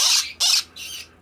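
Baby turquoise or blue opaline quaker parrots squawk in three harsh, loud bursts close by, with short gaps between them and no talking.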